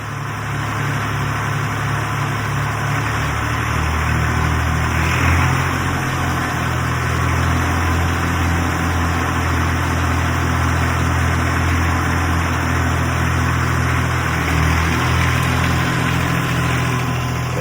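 A 1962 tractor engine idling steadily after sitting unused for 25 years, a loud, close, continuous low chugging rumble with vibration and no change in pace throughout.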